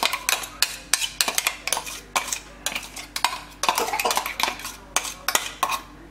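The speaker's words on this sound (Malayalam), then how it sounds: "ഇത് ഞാൻ നമ്മുടെ ഈ ചിക്കനിലോട്ട് മിക്സ് ചെയ്യാൻ പോവാണ്." Green paste is mixed into chicken in a bowl, with loud, close, irregular clinks and scrapes of a metal spoon against the dish in quick bursts, no talking.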